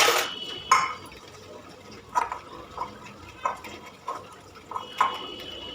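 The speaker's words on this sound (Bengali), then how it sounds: "ঝাড় দিয়ে নিয়ে একদম চলে এসেছি বাসন মাজতে" Dishes being washed at a sink with water, a run of separate clinks and splashes spaced about every half second to second, fairly close and moderately loud, with no talk.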